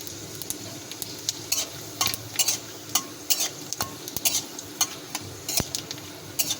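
Bay leaf, two dried red chillies and panch phoron crackle and sizzle in hot oil, with irregular bursts of spitting and pops and light stirring scrapes throughout, close and fairly quiet.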